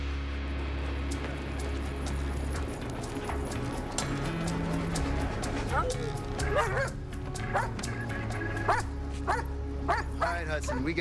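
A dog barks and yips repeatedly in a tense police standoff scene, the barks loud and close over a busy, shouting mix with hoof-like clatter and voices talking throughout.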